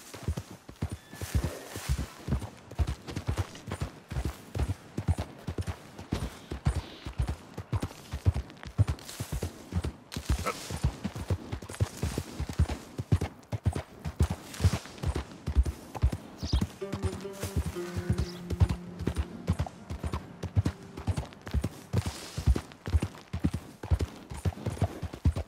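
Horse hooves clip-clop in a steady, even walking rhythm throughout, close and distinct in the Red Dead Redemption 2 video game, with a brief murmur of other sound partway through.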